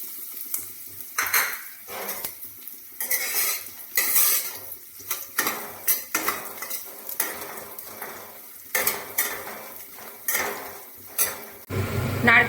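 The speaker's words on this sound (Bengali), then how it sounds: "এবার এতে আমি নারকেল কুচিটা লাল লাল করে ভেজে নেব।" Chopped coconut frying in hot mustard oil in a kadai, with a soft sizzle under repeated scraping and clattering of a spatula against the pan in an uneven rhythm.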